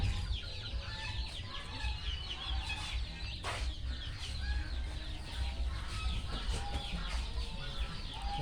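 Chickens cluck and call on a farm with pens of ducks, geese and pigs, several birds heard at close to moderate distance over a steady low background rumble.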